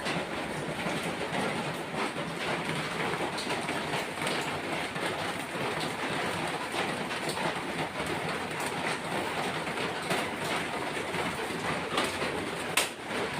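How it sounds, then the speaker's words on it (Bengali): Heavy rain pours down steadily as a dense, constant hiss that fills the whole stretch at an even level, with no voices. "দেখো বন্ধুরা কি বৃষ্টি দাঁড়াও তোমাদেরকে দেখাচ্ছি কেমন বৃষ্টি হচ্ছে"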